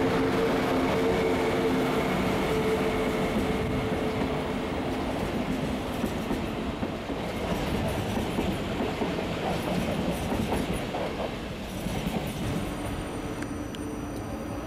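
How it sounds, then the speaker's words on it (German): An ICE 2 high-speed train departs Würzburg Hauptbahnhof bound for Hamburg and Bremen, a loud, close, continuous rumble with rail clatter and faint wheel squeal throughout, with no voices. "Ausfahrt eines ICE-2-Zuges nach Hamburg und Bremen."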